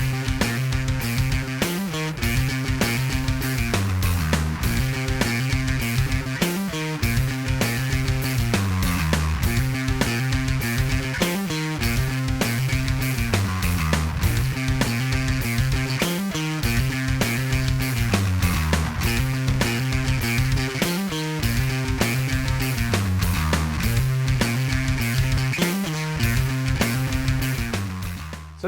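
Overdriven bass guitar riff through a Boss ODB-3 overdrive pedal, a two-bar classic-rock-style pattern built on a scale, looping steadily and loudly for the whole stretch with no talking.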